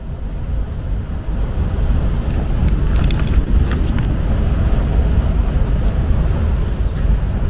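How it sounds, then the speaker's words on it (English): Strong night wind in the Carpathian mountains, blowing during a multi-day hike: a loud, continuous roar with low rumbling buffeting and gust texture throughout, heavy and unbroken, no voices. "The wind hasn't died down. It's like going strong."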